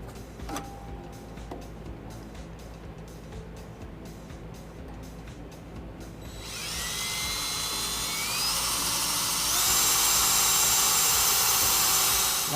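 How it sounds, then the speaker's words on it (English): A power drill bores a pilot hole into a 2012 Ram 1500 truck frame, its motor winding up to a loud, steady high-pitched whine that climbs in pitch and holds, after a quieter stretch of clicking and handling noise. "Now we have our pilot hole drilled."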